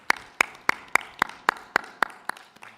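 Claps at a business summit after an AI panel land in a slow, evenly spaced rhythm, about three per second. Each one is crisp and distinct and rings out alone, with no talk over them.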